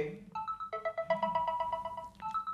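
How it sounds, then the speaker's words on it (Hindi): A smartphone on silent rings through the find-my-phone feature of a Noise ColorFit Caliber smartwatch, a bright, close, repeating melodic ringtone with someone speaking softly underneath. "आपका फ़ोन अगर साइलेंट पे भी होगा तो आपके फ़ोन में रिंग बजेगी"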